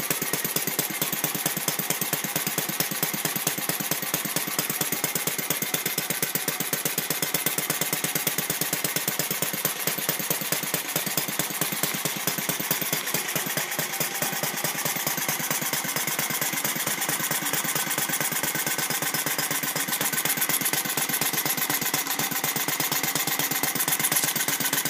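A home-machined model engine runs steadily at about 1100 RPM indoors, giving a continuous loud, buzzing mechanical drone with dense rapid firing pulses throughout and no talk.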